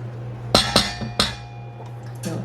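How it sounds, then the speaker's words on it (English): Spatula scraping corn syrup out of a measuring cup while baking, heard as a few sharp clinks and taps against the cup in quick succession, with quieter knocks following over a steady low background hum. "a spatula does help to get it all out of the measuring cup."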